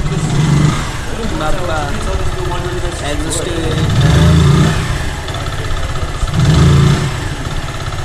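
A Zontes motorcycle engine idles steadily close by in a showroom, a low continuous rumble with slight swells in level, running under a man's ongoing speech throughout.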